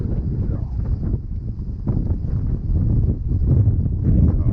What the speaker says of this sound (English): Oh, the wind blowing like crazy again.